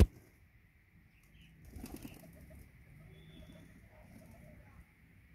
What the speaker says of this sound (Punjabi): ਚਲੋ ਹੁਣ ਆਪਣੇ ਕਬੂਤਰ ਆ ਹੀ ਗਏ ਜੀ